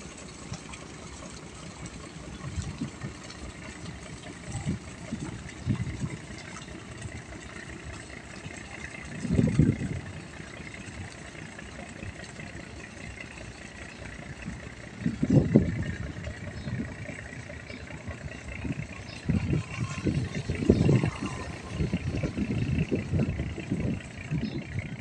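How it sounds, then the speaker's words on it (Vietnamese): Engine of an iron cargo barge built in 2002, hauling scrap in Vietnam's Mekong Delta toward Long An, idles with a steady low drone and occasional heavier knocking surges, continuous and moderately distant with no talk. "Đây là chiếc ghe sắt chở hàng."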